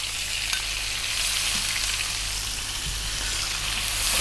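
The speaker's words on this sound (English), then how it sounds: "We're going to start off by dropping in the curry leaves" Curry leaves and onion hit hot oil over medium heat for a Kerala meat dish, producing a loud, dense, continuous sizzle up close with faint stirring underneath.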